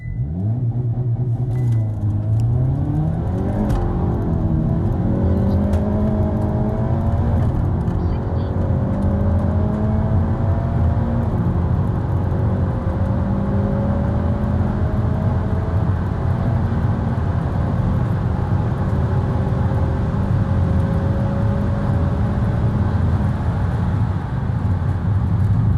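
Hyundai Elantra N accelerating hard during a Dragy timing run, its engine roaring and climbing steadily through the gears in rising sweeps, heard loud from inside the car with voices faintly under it.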